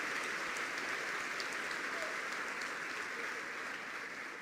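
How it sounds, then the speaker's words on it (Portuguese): A church congregation applauding during a sermon, a broad, steady wash of clapping that sounds distant and muffled, holding evenly before easing slightly at the end. "dá um salve de palmas ao Senhor"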